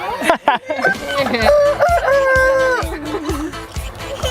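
Several roosters crow close by, with long overlapping cock-a-doodle-doos and some clucking, amid general farmyard noise.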